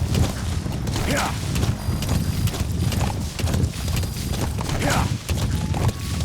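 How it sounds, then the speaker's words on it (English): Horse hooves clip-clopping in the video game Metal Gear Solid V, a steady rhythmic trot with some creaks of tack, close and continuous, with a brief spoken word over it. "Use your horse."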